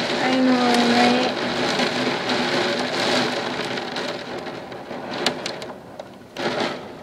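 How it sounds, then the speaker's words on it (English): Rain falls steadily through a storm in Alberta, a broad hiss of drops on outdoor surfaces with a few louder splashes near the end, while people talk over it early on. "Oh, man. It's raining."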